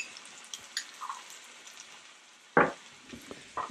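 Capers and some of their brine sizzling as they're stirred in a frying pan, a quiet steady hiss dotted with small pops and a sharper scrape of the spoon, close up with no voices.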